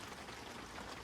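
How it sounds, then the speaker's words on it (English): Rain falling on a tarp roof over a peacock enclosure, a soft, even patter of drops close overhead, faint and continuous with no voices. "although it's raining right now, I'm sure you can hear it"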